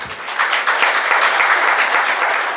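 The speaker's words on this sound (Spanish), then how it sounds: "Por favor, un fuerte aplauso." Applause at an evening talk on digital business transformation: a loud burst of clapping from the audience, dense and steady for a few seconds without a break.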